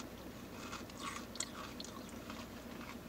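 Quiet, close crunching bites and chewing of beer battered onion rings, a few crisp snaps amid soft mastication with no talking.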